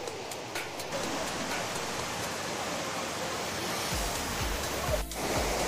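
Continuous broadband rush of the 15-metre Cachoeira de Deus waterfall in Penedo, Itatiaia, steady and fairly loud with no speech, the water roaring evenly throughout.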